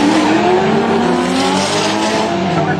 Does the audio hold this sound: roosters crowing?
no